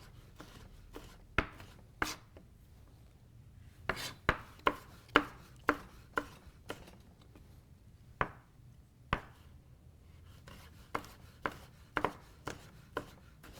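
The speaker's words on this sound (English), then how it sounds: "slice, cut into strips, and then come back through to finish it up" A kitchen knife chops summer squash into strips on a cutting board with crisp, sharp knocks in irregular bursts, some quick runs and a few pauses, close and clear with no talking.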